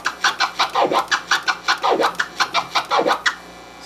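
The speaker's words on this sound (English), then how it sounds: "That's a flare and a chirp being alternated." Turntable scratching that alternates flares and chirps in a quick, even rhythm of short swooping strokes, close and loud with no talking over it.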